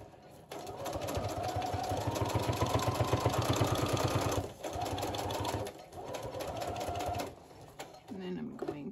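A sewing machine zigzag-stitches patches onto a journal cover in rapid, rhythmic clattering bursts, with two brief pauses between runs. It sounds close and loud, and a voice speaks in the background.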